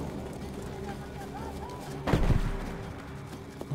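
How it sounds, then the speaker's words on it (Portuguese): Explosions in the Battlefield V campaign, with a heavy blast bursting out midway over a dense backdrop of distant gunfire and battlefield rumble, while someone talks over the action. "Eita, tá explodindo tudo aqui."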